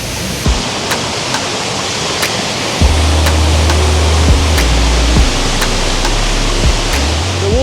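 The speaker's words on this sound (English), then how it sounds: "The name of waterfall is called Arusha Waterfall. It is found at the Arusha National Park." Arusha Waterfall in Arusha National Park, Tanzania, gives a steady broadband roar of falling water that continues without a break, with a low rumble that grows heavier partway through.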